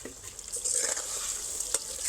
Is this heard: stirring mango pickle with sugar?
yes